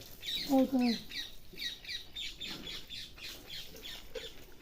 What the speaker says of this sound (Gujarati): પોપટ બહુ રાયડું નાખતા હોય